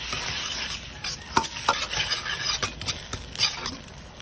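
Squid sauce cooking in a pan with sili peppers, a close sizzle broken up by scraping, rubbing strokes of a utensil stirring in quick irregular bursts.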